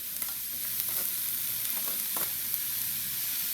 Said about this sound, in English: I'm now adding the chopped cabbage to the rest of the ingredients